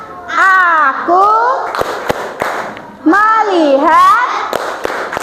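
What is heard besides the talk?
children doing 'tepuk fokus' clapping chant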